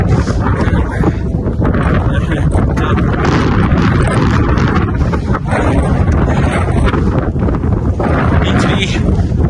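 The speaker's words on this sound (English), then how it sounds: "But you can probably hear the wind" Strong wind buffets the microphone on a cold mountain ridge of A' Chralaig in the Scottish Highlands, a loud, constant roaring rumble filling the whole clip without a break.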